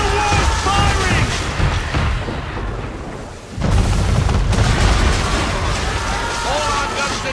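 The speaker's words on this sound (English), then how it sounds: "Man of war's firing!" Heavy cannon fire from a man-of-war warship in Assassin's Creed 3, deep booming blasts under loud battle noise and shouting voices, with a short lull before the din resumes.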